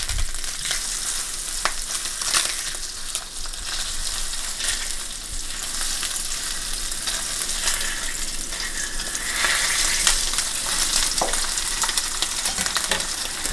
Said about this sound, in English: Frying up the Spam.